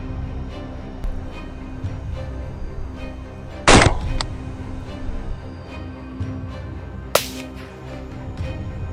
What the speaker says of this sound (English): Continuously firing, we took down 5 more wild boars.